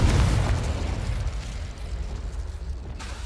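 A Confringo spell explodes in the Hogwarts Legacy video game, a heavy booming blast that rumbles loudly at first and then slowly fades, with no talk over it.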